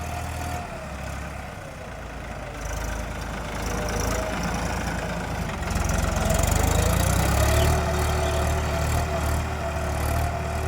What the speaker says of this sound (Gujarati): આ 3 ટ્રેક્ટર એક હાથું ચાલુ કરી દીધા